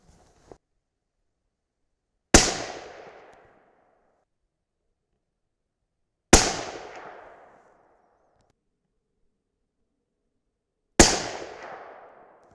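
Three loud, sharp rifle shots from a 6.5 Creedmoor firing 130gr Sierra GameChanger bullets, spaced several seconds apart in near silence, each a crisp crack followed by a rolling decay lasting about a second.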